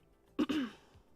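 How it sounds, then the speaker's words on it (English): A single short throat clearing, close to the microphone, two quick rough bursts and then quiet. "So I breathed in, and all of a sudden I had to cough."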